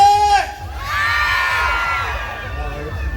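A crowd in a Manila street setting screams and cheers loudly for about three seconds, a sustained burst of shrill voices and whoops after a brief lull, with a speaker's voice near the start.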